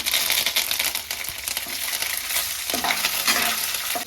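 Peanuts, chana dal and curry leaves fry in a pan for chitranna, a steady crackling sizzle with scattered scraping and rattling as a spatula stirs the mix.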